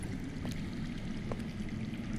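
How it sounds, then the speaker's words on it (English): Continuous rush of running water coming from underground in a dark video game setting, a low steady flowing wash with a few faint trickles and clicks, moderately quiet and without talk. "I hear water. From underground."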